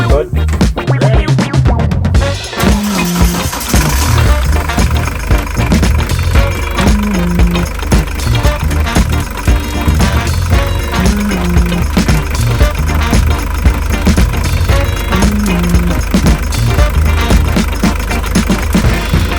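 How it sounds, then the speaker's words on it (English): A boat engine is started at sea: a short cranking clatter, then the motor catches and runs loud and close with a steady, rhythmic throb and a persistent mechanical clicking. "go fire up the engine"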